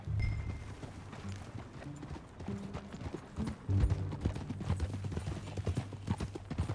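Horse hooves clip-clopping on the ground in Red Dead Redemption 2: a steady rhythm of riding under loud game sound, nearby and continuous, with no talk.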